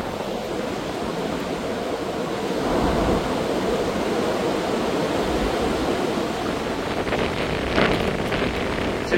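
Violent gusts from storm Floriane roaring past outdoors, a continuous loud rushing buffet with surges that pound the microphone.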